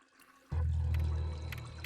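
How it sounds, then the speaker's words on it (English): Faint water running down pipes from an upstairs floor inside an old manor in the game Deeproot Manor, starting abruptly as a steady low rushing flow that continues evenly and slightly eases near the end. "I'm hearing some faint water flowing down the tubes from upstairs"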